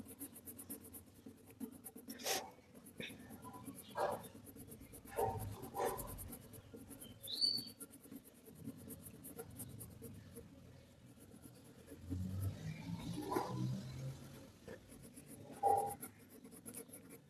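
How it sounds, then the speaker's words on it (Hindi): A 2B pencil shading on paper gives soft, scratchy strokes in short bursts with pauses between them, close and quiet. Someone talks faintly in the background. "ये 2B पेंसिल है तो इसे ज़्यादा डार्क चलाने की कोशिश मत करना, नॉर्मल चलाना जितना हो सके"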